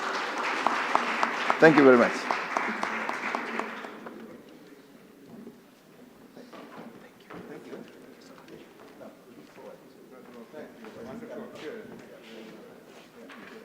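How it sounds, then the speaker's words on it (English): An audience at a Commonwealth regional conference applauds Justice Richard Goldstone, a loud burst of clapping that fades over a few seconds into quieter hall noise, with someone speaking over the start. "Justice Goldstone another round of applause, please."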